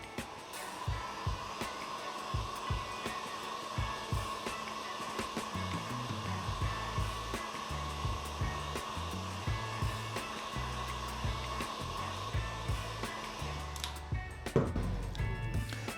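Hair dryer blowing steadily to dry screen printing ink on a halftone print, a constant close whooshing drone throughout, with soft thumps and handling noises beneath it.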